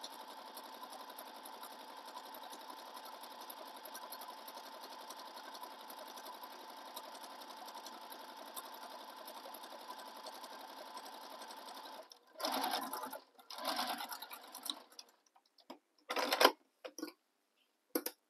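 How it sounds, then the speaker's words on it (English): A domestic sewing machine runs at a steady, even whir while top stitching down the side of a tote bag, then stops and gives several short bursts of stitching near the end, alone without talk. "I'm going to top stitch again down that same side using the seam allowance given in the pattern"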